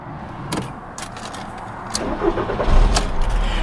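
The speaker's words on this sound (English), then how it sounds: "It shakes when you start it." The 2.0 engine of a 1999 Volkswagen Beetle with about 135,000 miles and worn motor mounts cranks amid cabin clicks and rustles, then catches near the end into a low, rough rumble, heard from inside the car.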